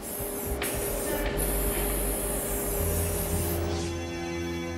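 Spray guns apply paint to Lexus LFA supercar body panels in a factory paint booth, a steady loud hiss of spraying with mechanical hum and tonal whine underneath and brief breaks in the spray.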